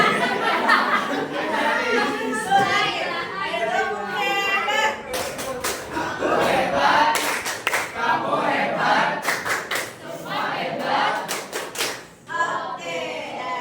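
A classroom group performs the rhythmic Indonesian 'tepuk hebat' clapping chant during a lesson presentation. Sharp, patterned hand claps burst out in clusters, mixed with lively chanting voices and chatter throughout.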